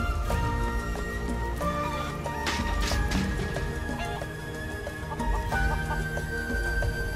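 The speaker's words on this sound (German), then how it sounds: "Okay, das heißt, hier ist schon eins der Hühner?" Chickens clucking in the Final Fantasy VII Rebirth video game, steady clucks and fowl calls over continuous game music and ambience, fairly close and clear throughout.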